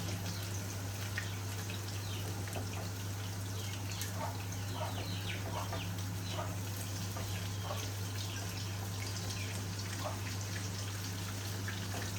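Soft, scattered calls of a hen with chicks off in the distance, over a steady low electrical hum and faint background noise.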